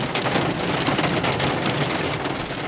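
Steady rain pours down in a dense, even hiss of drops hitting surfaces, close and continuous without pause.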